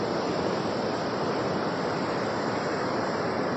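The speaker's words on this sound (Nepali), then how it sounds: "यो ठुलो खोला यही हो गाइस। मास्तिरदेखि आइरहेको छ है।" A big river in the Nepali countryside rushes past in a continuous, dense roar of flowing water. It stays loud and unbroken throughout with a little wind mixed in, and no one talks.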